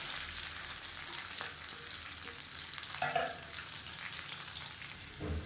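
Onions frying in a pan with oil for a lunch box recipe, a steady close sizzle that runs throughout with occasional stirring scrapes, no voices over it.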